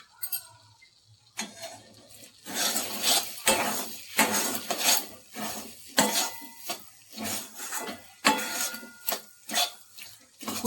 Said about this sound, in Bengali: পুরটা সবসময় লাড়তে থাকতে হবে, তাহলে তা না হলে কড়াইয়ে লেগে যাবে।